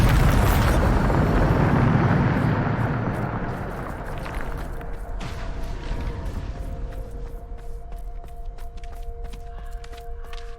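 An explosion spell detonates in Hogwarts Legacy with a heavy, rumbling boom. Debris crackles and settles as it dies away, leaving a low hum and scattered small clicks.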